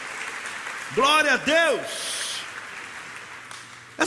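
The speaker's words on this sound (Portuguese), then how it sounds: "Dá uma salva de palmas" A church congregation claps during a sermon, a brief burst of applause behind a preacher who shouts praise twice, the clapping soft and short-lived.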